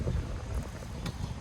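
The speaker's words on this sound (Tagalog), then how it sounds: "Mahangin kasi. Nasa tabing lake pa." Steady wind at a lakeside park buffeting the microphone with a low rumbling roar throughout, constant and fairly close, with no talking.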